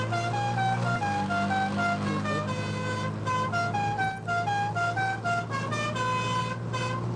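A musical car horn blares a film theme, a loud run of sustained melodic tones rising and falling note by note over a steady low engine drone, with no talking.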